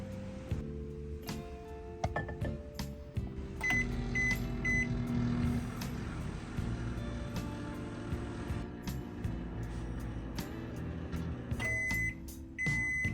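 A microwave oven cooking eggs hums steadily for several seconds, with clicks and short beeps from its controls at the start and end.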